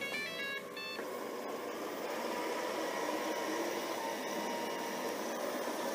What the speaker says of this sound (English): Now let's see what happens when I turn the vacuum on.